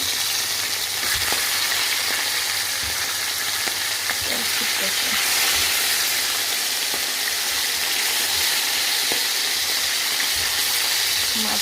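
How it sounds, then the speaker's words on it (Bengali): Fish sizzling steadily as it fries in a pan, a continuous loud crackle of hot oil held close, with occasional light scrapes of a utensil as pieces are turned. "মাছগুলোকে আমি উল্টিয়ে নিই এরকম ভাজা হলে আমি মাছগুলোকে নামিয়ে নেব"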